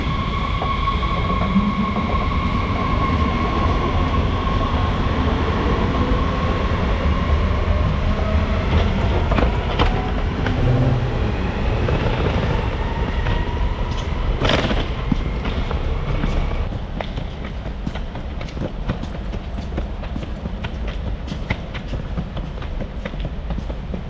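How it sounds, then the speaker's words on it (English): Ambience at a new, very clean train station at Frankfurt airport: a broad steady rumble with faint tonal whines and scattered sharp clacks, easing quieter toward the end. "A new and very clean station."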